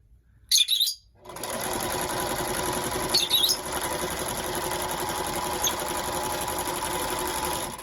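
A worn, rattly home sewing machine rolls a quick hem in a steady, continuous motor whir at moderate loudness for about seven seconds, with a few brief higher squeaks near the start.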